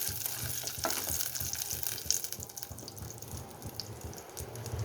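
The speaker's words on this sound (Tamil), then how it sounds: "அதில் இந்த முந்திரி நல்லா வந்து ப்ரௌன் ஷேட் ஆகிற வரைக்கும் நம்ம வறுத்து கொடுத்துடலாம்" Cashews fry in a pan of hot oil for mutton sukka, a steady close sizzle with crackling pops and occasional stirring scrapes.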